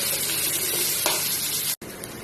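Green and dried chillies with other curry ingredients sizzle steadily in hot oil for a chicken curry, a dense close frying hiss that cuts out for an instant near the end before resuming.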